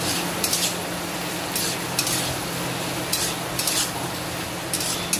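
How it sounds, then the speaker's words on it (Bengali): Carrots and shredded cabbage stir-fry in a pan for homemade chow mein, a steady soft sizzle broken by repeated scraping and clinking strokes of a spatula against the metal at an uneven rhythm, close and clear with no talk. "গাজর দিয়ে দিয়েছি, নাড়াচাড়া দিয়ে।"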